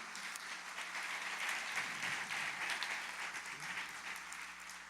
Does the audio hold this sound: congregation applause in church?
yes